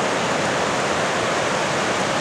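Rushing rapids where a creek joins the North Fork Quinault River in Olympic National Park, a steady, dense roar of whitewater filling the air, close and continuous with no voices.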